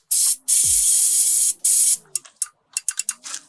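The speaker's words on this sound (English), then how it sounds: "I found a little bit of easy start. I could just spray it in there" Easy Start starting fluid sprayed from an aerosol can into the engine of a 1998 Dennis Dart bus, heard as three long loud hissing bursts followed by a string of short sharp spurts, with no talking.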